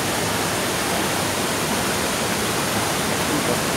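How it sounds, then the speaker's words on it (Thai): The large Kaeng Sopha waterfall pours in a steady, loud, unbroken roar, heard from close by at its base. "มาดูความงดงามของน้ำตกแก่งโสภา"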